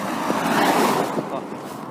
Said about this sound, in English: Now I've got a Land Rover coming.